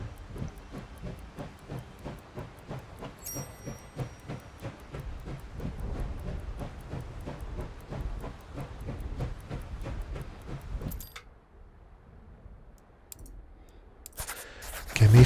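A train in the video game Last Train Home rolls along rails with a steady rhythmic clacking of wheels over track joints and a hissing undertone, then the motion drops away to near quiet before a sudden burst at the end.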